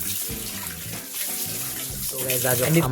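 Ingredients for umbadiyu washed under running water during village-style night cooking outdoors, a loud, steady gush and splash of tap water continuing throughout.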